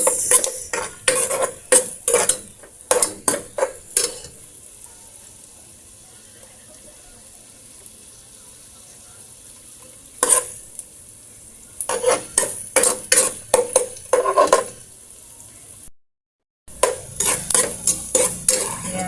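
Garlic and onion sauté in a pan for a chicken sopas, sizzling underneath while bursts of sharp metallic scraping and clanking from stirring come in clusters, separated by a long quieter stretch.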